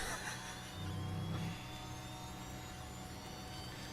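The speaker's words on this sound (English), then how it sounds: "It's probably our busted up engine." Damaged, busted-up F1 car engine in the F1 Manager 24 racing game at Las Vegas, a faint, rough low drone that swells briefly near the start before settling into a steady hum.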